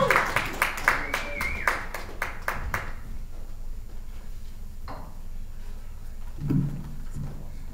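Audience at a live comedy club set claps for a comedian in a quick, fairly close burst of applause lasting about three seconds, then fades into room murmur and a faint voice.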